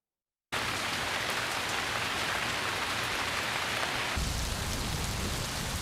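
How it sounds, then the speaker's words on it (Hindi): Heavy winter rain pouring down steadily in Balochistan, a dense even hiss of falling water that starts abruptly and continues without pause, alone with no voices. "शहर शहर बारिश ने जल थल कर दिया।"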